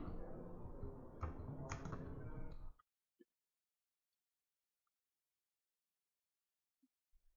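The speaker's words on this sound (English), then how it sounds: "I'm just typing the contact's name as new contact." Fast typing on a computer keyboard while entering contact details into business software, a short burst of close, quiet key clicks that stops abruptly, followed by near silence with a few faint taps.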